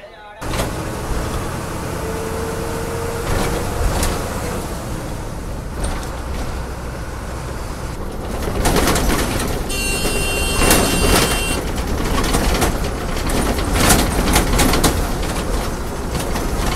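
An MSRTC ordinary state transport bus engine drones steadily on a Pune to Barshi journey, with road rumble, rattles and swelling passes of other traffic, while people talk over it.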